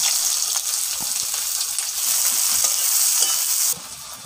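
Dried red chilies and chopped onion hit hot oil with bay leaf and garam masala, making a loud, dense sizzle with stirring scrapes that drops slightly in volume at the very end.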